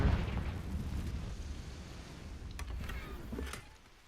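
A Confringo fire spell explodes in Hogwarts Legacy, a deep rumbling blast that swells at once and rolls on steadily, with faint crackles near the end.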